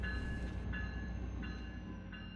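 Train passing through a Route 66 town, a steady loud rolling rumble with sustained horn-like tones that repeat in short pulses, heard alone without talk.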